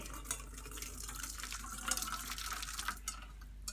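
Boiling-hot butterfly pea flower water pours steadily into a bowl or pan, a continuous splashing, trickling stream heard close up and fairly quiet, with no talk over it.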